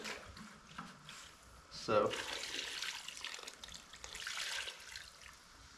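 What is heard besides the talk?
water pouring into a pot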